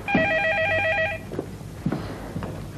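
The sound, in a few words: telephone ringing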